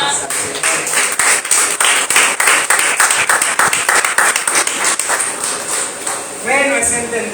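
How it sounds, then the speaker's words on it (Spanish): A church congregation claps hands together in worship, a loud rhythmic run of fast claps over several seconds that fades near the end as voices begin to sing. "A su nombre, denle palmas al Señor"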